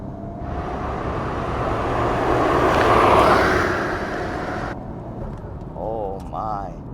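A Nissan GT-R R34, recently out of two years of storage in Japan, accelerating hard on a highway, heard as a rising, swelling engine and road roar that fades back to a steady rumble with faint human sounds near the end.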